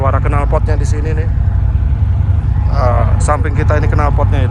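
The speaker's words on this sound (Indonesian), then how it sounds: "Ini suara knalpotnya di sini nih." A steady low rumble of a car exhaust drones throughout while someone talks over it close to the microphone.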